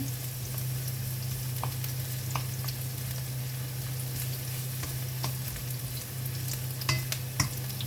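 Garlic and ginger sautéing in a pan for mung bean soup with alugbati, a steady close sizzle and fry with occasional stirring clicks and scrapes throughout, no voices.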